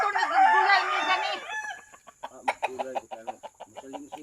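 A rooster crows once in a loud, drawn-out call, then breaks into a run of short, rhythmic clucks, all close to the listener with no talk.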